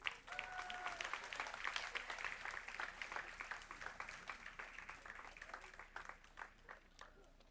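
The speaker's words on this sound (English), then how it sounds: "Let's give this outstanding parent volunteer a big round of" An audience at a school board meeting claps for a parent volunteer, a sustained round of moderately distant applause that slowly tapers off, with faint voices mixed in.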